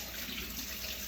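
Kitchen tap running steadily as brined steak is rinsed under it, a continuous close hiss of flowing water with no pauses.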